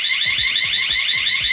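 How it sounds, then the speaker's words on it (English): Fire alarm on a Wattsan 6090 CO2 laser cutter, triggered by flame sensors in the portal: a loud, piercing electronic tone pulsing rapidly and continuously, close to the microphone. "3 sensors in the lower part of the portal react to open flame and trigger a loud"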